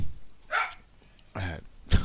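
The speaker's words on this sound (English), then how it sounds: "Excuse my dog." A dog makes three short throaty noises, coughing or huffing bursts spaced apart, fairly close and moderately loud over a quiet room.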